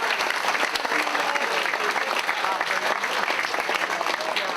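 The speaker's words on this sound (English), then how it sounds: "we should give all the players a round of applause for that as well." Steady, dense audience applause at a football club's player of the season awards night, continuous clapping from a crowd indoors lasting several seconds.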